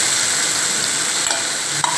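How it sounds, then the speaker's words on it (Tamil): Onions sauté in a pan for a roasted-eggplant dish, with a close, continuous sizzle and frying hiss. Short scrapes of stirring break in twice, and nobody speaks. "முதல்ல வெங்காயம் வேணாலும் ஒரு தடவை முதல்ல வதங்கட்டும்."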